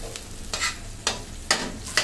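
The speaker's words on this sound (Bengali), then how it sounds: "এখন আঁচটা মিডিয়াম করে দিয়ে আমি মশলাটাকে কষিয়ে নিচ্ছি, ঢাকনা দিয়ে ঢেকে দিচ্ছি।" Masala paste sautéing in a pan over medium heat, a low sizzle punctuated by four regular scraping stir strokes, close and clear.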